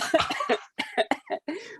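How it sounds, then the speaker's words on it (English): Several sharp coughs in quick succession, close and fairly loud, broken by brief pauses, with no talking. "As I start to cough."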